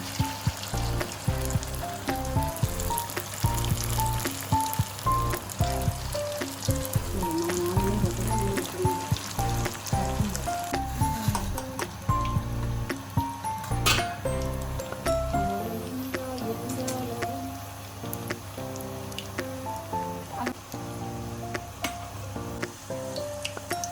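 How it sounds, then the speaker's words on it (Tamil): Coated mundiri kothu balls, a Kanyakumari sweet, deep frying in hot oil, giving a loud, steady sizzle and crackle that fills the whole stretch with no talk over it. "நம்ம உருளையை எடுத்து இந்த கோட்டிங்கில் முக்கி லட்டு மாதிரி நம்ம எண்ணெயில் போட்டுக்கலாம்"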